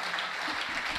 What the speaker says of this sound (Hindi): तालियां घनीभूत कीजिए